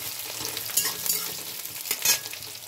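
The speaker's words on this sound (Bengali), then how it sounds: "কড়াইয়ের মধ্যে তেল আর একটু ঘি মিক্সড করে নিয়ে আমি এর মধ্যে একটা শুকনো লঙ্কা আর দুটো তেজপাতা দিয়ে পেঁয়াজটা দিয়ে দিয়েছি" Onion fries in a kadai of oil mixed with a little ghee, with a dried red chili and two bay leaves, a close steady sizzle broken by a couple of stirring scrapes.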